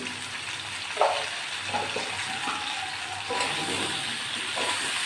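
Potatoes and pointed gourd, salted and dusted with turmeric, sizzle and crackle steadily in a pan on their own, with a few louder spits and stirring sounds over a continuous frying hiss.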